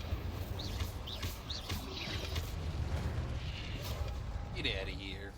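The Incendio fire spell cast in Hogwarts Legacy, a steady roaring whoosh of flame with rumbling booms throughout, under spoken voices and scattered in-game effects.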